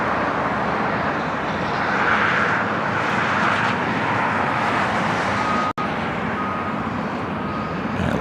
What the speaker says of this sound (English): A330-300 heading to Honolulu, taking off here on the north side